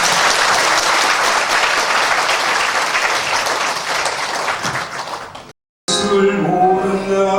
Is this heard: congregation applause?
yes